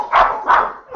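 A dog barks twice in quick succession with a softer third yelp, close and fairly loud, breaking into a conversation about football travel.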